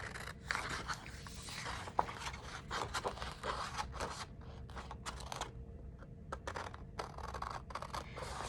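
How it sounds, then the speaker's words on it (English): Scissors cut along the edge of paper while a decoupaged ceramic coaster is being made, giving close, quiet, repeated snips and scraping rasps in an irregular rhythm with no voices. "I'm going to cut along the edge, nice clean lines to make sure that it's"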